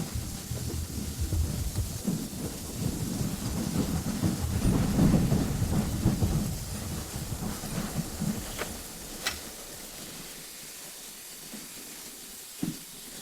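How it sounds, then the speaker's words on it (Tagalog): Heavy rain falling outside at night, a steady dense rush with low rumbling swells that ease off toward the end, broken by a few sharp isolated knocks. "Malakas ang ulan sa labas."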